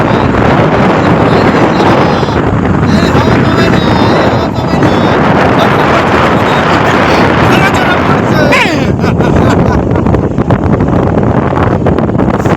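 Strong sea wind at a beach buffets the microphone in a loud, continuous roar with gusty rumble throughout, and people talk faintly underneath.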